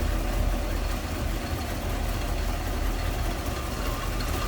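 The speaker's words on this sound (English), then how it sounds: "It came off high idle, so barely hear this thing run now." Warmed-up 1953 Cadillac Series 62 sedan engine idling low and smooth, a steady close rumble that holds even throughout with no talk.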